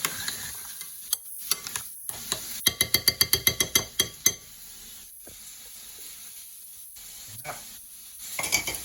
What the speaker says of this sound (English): Give that another stir, another shake round.